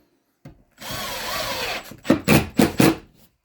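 A power drill drives screws into drywall during a small patch repair, with one steady whirring run followed by four short, loud bursts as each screw seats, close up with no talking.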